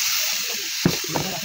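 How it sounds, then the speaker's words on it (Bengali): Cut potatoes with spices stir-fried in a wok on a stove, producing a gentle hiss and sizzle that swells into a couple of sharp clattering stirs near the end, close by and brief. "এটা ভালোভাবে কষানো হয়ে গেলে সেই কেটে রাখা আলুটা দিয়ে দিলাম। এটাও কিছু সময় নাড়াচাড়া করে খুব সুন্দরভাবে কষিয়ে নিব।"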